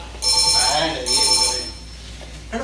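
A phone ringtone goes off during a Sunday School Night skit on stage: two bright electronic ringing bursts, each under a second long, repeat close together and fairly loud, then fade as faint voices and room noise carry on.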